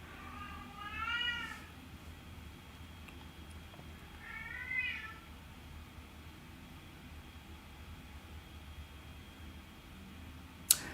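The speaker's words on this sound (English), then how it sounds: "He right at the door too. He want to get in here so bad. I am not opening that door for that cat." A cat meows twice at a closed door, wanting to be let in, each cry a drawn-out, wavering call heard from a little way off, with a pause between them and a sharp click near the end.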